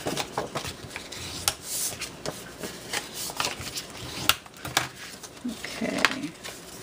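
Paper is folded and scored along lines on an envelope punch board, giving a run of close, crisp crinkles, rustles and quick scraping strokes at a steady working pace.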